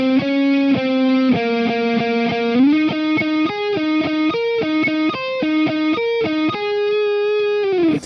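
Distorted electric guitar plays the second two measures of a song's solo, a steady run of sustained single notes and bends, loud, close and alone, ending on a held note.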